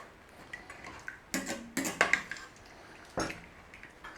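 Curry baked beans with sultanas get stirred in a pot, a few soft scrapes and clinks of a spoon against the metal, close and quiet, in short irregular bursts with pauses between.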